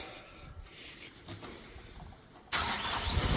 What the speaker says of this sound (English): Now we're going to fire it up.